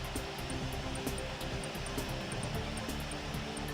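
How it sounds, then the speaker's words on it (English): Airbus A380 on the runway after landing, a steady loud roar of engines and rushing noise as it slows, constant and close throughout. "The pilots have to quickly slow down this Airbus A380 so the aeroplane would not have the risk of overshooting the runway."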